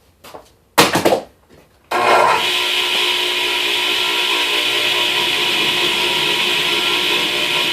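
A table saw in a workshop rips a sheet of plywood along the fence: a few knocks and a short clattering burst, then a loud, steady whining cut that holds constant to the end, close by and with no one talking.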